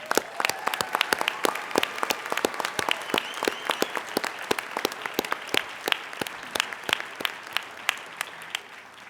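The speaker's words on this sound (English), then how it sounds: "So let's give a round of applause, please." An audience at a college Dean's List ceremony claps for about nine seconds, distinct individual claps in a sparse, fairly quiet round of applause from a modest crowd.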